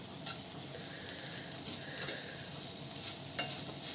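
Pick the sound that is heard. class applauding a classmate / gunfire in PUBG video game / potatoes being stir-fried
potatoes being stir-fried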